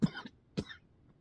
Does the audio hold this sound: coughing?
yes